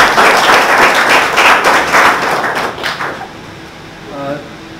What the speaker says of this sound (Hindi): तो एक बार इनके जोरदार ताली है।